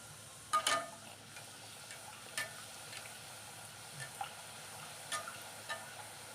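Puri frying in hot oil gives a faint, steady bubbling sizzle, with a few soft clicks and taps from a slotted spoon scattered across it.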